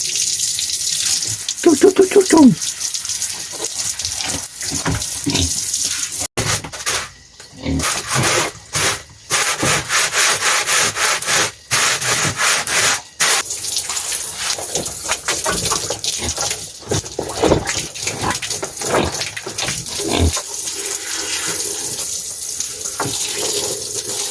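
Water sprays and splashes continuously while a pig pen on a farm is hosed down, a loud, near rushing wash broken by short pauses and shifts in the flow, with faint animal sounds in places.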